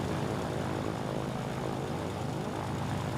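A B-17 bomber comes in to land in a flight game, its propeller engines droning in a steady, even roar that holds at a moderate level throughout with no voices.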